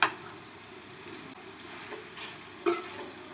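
Petha pumpkin sabzi cooked halwai style is stirred in a pan, a soft steady sizzle with a couple of brief scraping clicks of the spoon, quiet and close with no talk.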